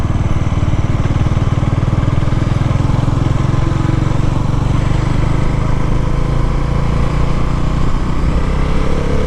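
Bajaj Dominar 400 motorcycle engine running in sport ride mode, a loud, steady, close-up drone that holds for the whole stretch without pause.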